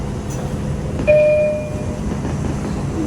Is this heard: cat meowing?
no